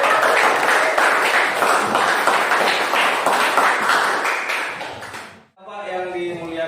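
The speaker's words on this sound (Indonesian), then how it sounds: "Kasih tepuk tangan semuanya" Classroom applause from a group of students after a teacher's lesson on Islamic marriage rules, a dense steady patter of many hands lasting about five seconds before cutting off, followed by brief tonal sound.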